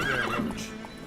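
Roach, a horse in the video game The Witcher 3, gives a short whinny over soft hoofbeats, close and fairly loud.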